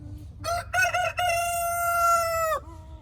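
A rooster crows once up close, a loud clear call with a couple of choppy opening notes stretching into a long sustained tone that cuts off sharply, followed by a faint cluck over a low background rumble.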